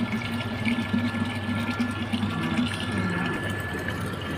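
A coin-operated water machine pumping water into a metal pot, a steady gushing pour with a low pump hum running continuously at close range.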